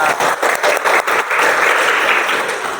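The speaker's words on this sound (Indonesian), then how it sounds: "Tepuk tangan untuk kita semua." Applause from an audience in a classroom, a steady rush of many hands clapping close by, with sharp bursts early on that settle into a continuous wash before easing slightly at the end.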